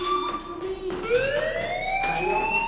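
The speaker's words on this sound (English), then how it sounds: "Hey, do you hear that fire alarm?" Fire alarm wailing in Life Is Strange, a rising and falling electronic siren tone that sweeps upward and holds loud and steady, heard on its own.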